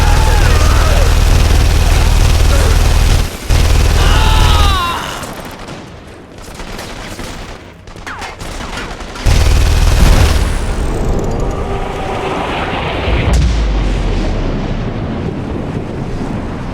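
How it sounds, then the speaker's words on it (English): Gunfire and explosions in The Saboteur, a game set around Paris: loud booming blasts and rattling volleys come in heavy bursts, with quieter stretches of rumble and wind between them. "fuckers shooting at me!"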